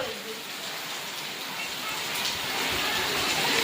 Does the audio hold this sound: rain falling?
yes